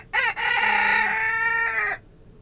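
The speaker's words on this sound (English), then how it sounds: "Here's our other rooster crowing," A rooster crows once, close and loud, a full drawn-out cock-a-doodle-doo of about two seconds with a brief hitch near the start, heard alone on a snowy day.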